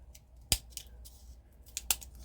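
Leatherman Wave Plus multitool scissors snipping through a small piece of light cardboard, two sharp close cuts standing out among softer rustling and scraping of the material.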